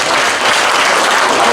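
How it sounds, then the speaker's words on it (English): A stand-up comedy crowd bursts into loud, dense applause, close and continuous for the whole moment. "A round of applause."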